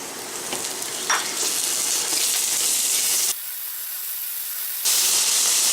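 Ground beef hits a hot pan with onions for Pinoy-style bibimbap, setting off a loud, continuous sizzle that swells into a brighter hiss toward the end.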